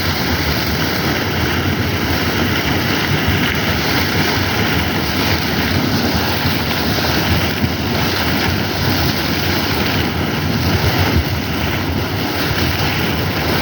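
Water erupting from the ground in a periodic geyser-like spray that lasts about three minutes: a loud, steady, broadband rush and hiss, close by, mixed with wind buffeting, without pauses.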